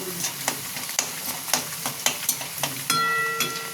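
Onions fry in a pan, frying them light brown for chicken keema, a constant sizzle broken by regular sharp scrapes of a spatula about every half second, near and clear, with no talking.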